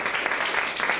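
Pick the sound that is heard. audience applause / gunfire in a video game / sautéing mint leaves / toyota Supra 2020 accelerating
audience applause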